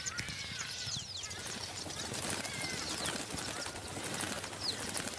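Brown-throated martins twitter along the Orange River in South Africa, with short chirps and thin rising calls scattered over a faint, low background rumble, soft and somewhat distant.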